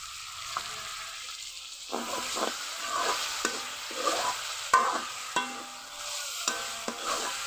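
Chicken mince frying with chopped green chillies in a pan sizzles steadily up close, punctuated by a rhythmic series of stirring and scraping strokes, with no talk.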